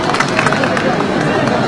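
Audience applause at a stage singing show as a young Miao girl singer is welcomed, a dense steady wash of clapping and crowd hubbub filling the whole stretch.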